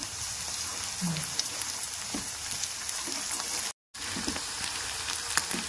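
Ginger garlic paste sizzles in hot oil for a sprouts chicken curry, a soft steady crackle with scattered pops and a few light utensil clinks, brief silence in the middle.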